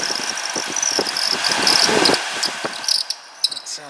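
Squealing from the HVAC blower fan motor of a Saab 9-3, a continuous high whine with scratchy fluctuations over a running engine, close and fairly loud, with a few sharper squeaks toward the end.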